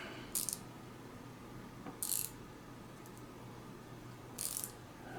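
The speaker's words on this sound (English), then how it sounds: "I'm going to put my screwdriver bit into a little ratcheting tool." A small ratcheting screwdriver works a screw on a bicycle crank. Three short, crisp clicking bursts stand apart in a quiet room with no talk.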